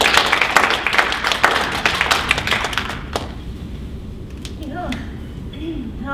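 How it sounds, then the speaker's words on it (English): Audience applause for a guest speaker, brisk clapping from a modest group that is loud at first and fades out after about three seconds, followed by quiet room tone with faint voices. "Please help me in giving Ms. Dr. Wise Yatawin a round of applause."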